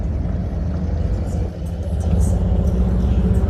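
A car idles nearby on a street with a steady low engine rumble and a brief dip in level, and faint voices sit underneath.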